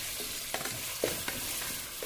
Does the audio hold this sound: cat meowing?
no